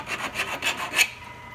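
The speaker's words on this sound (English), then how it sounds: "So right now you're just deburring the edges" A hand file rasps back and forth over the cut edges of metal turbo kit piping, several quick scraping strokes close by, rising and fading with each pass, with no talking.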